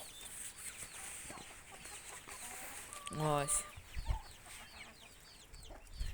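Hens cluck in soft, scattered bursts outdoors, with a brief spoken word partway through and light rustling in the background.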